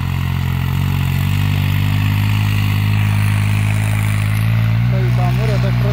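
A turbocharged New Holland 3630 tractor running in third gear gives a loud, close diesel drone whose pitch shifts slightly a couple of times, and a brief voice is heard near the end.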